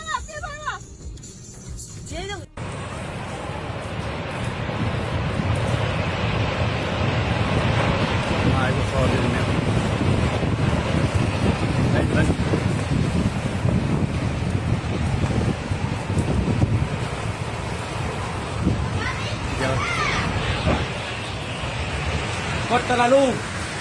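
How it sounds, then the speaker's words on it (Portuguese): Strong storm wind roars and buffets against a car on a highway, loud and gusty with a rushing road-noise bed, after a brief different sound at the start. "a câmera de um carro registra a força do vento na rodovia."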